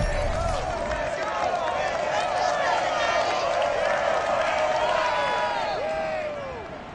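A packed NFL stadium crowd of Bengals fans roars steadily before a Vikings–Bengals game, a dense, continuous wall of cheering and shouting that holds loud throughout and then eases slightly at the end.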